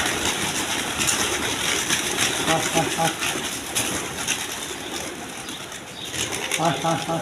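Released high-flying Giribaz pigeons take off from a loft, their wing flaps and faint coos blending into a busy, continuous outdoor wash with people talking nearby.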